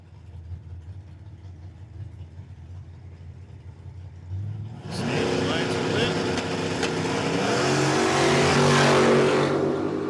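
A Nova and a Camaro launch in a drag race at Cordova Dragway, a sudden loud engine roar rising over quiet crowd and announcer talk, then building into revving acceleration as the cars pull away.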